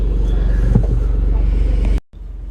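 A Mini Cooper D diesel engine drones steadily on a test drive after glow-plug and engine-mount replacement, a loud, even low rumble that briefly drops out near the end.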